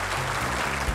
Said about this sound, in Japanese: ご賛同いただける方は拍手をお願いいたします